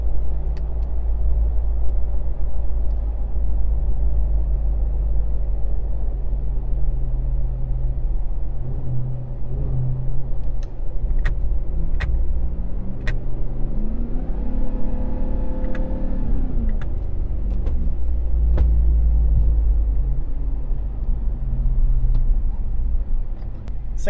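A 702-horsepower supercharged RAM 1500 TRX pickup rumbles deep and close from inside the cab, its engine note climbing and falling as the throttle is stabbed on and off.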